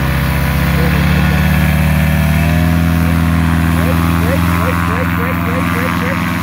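Small aircraft engine running at quarter throttle, a loud steady droning hum with a faint rising whine throughout, heard from inside the plane, with a voice speaking over it.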